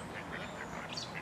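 A duck at a zoo quacks a few short times over a steady outdoor hum, fairly faint, with no clear talk.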